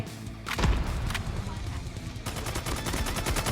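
Rapid bursts from a Striker 45 shotgun in Call of Duty: Mobile's zombie mode, loud close shots over steady game noise, with a player talking at points.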